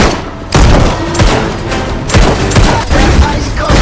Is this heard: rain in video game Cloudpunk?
no